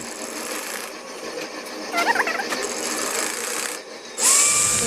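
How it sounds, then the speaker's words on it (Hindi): A sewing machine runs continuously to stitch an open seam closed on a circular palazzo, a steady mechanical whir with a louder burst near the end. "ये वाली सिलाई खुली है, इसे भी बंद कर देते हैं"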